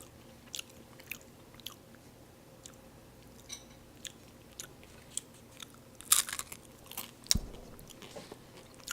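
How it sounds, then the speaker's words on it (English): Crunchy bites into a spaghetti taco, a hard taco shell filled with spaghetti, come as scattered sharp crackles and chewing clicks up close, with two louder crunches near the end and no talking. "Just gonna eat. You can get all the sounds."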